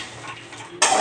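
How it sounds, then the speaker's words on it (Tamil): Chana dal roasts dry in a pan, giving a soft rustling sizzle, then a sudden sharp scrape of a spoon stirring the lentils at the end of the brief moment. "கடலைப்பருப்பு வறுவடை போகுது."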